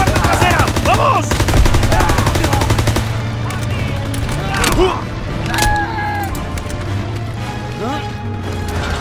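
Dense, loud gunfire from the World War II shooter Call of Duty WW2 rattles in rapid machine-gun bursts and scattered shots throughout, mixed with shouting voices in the chaotic battle.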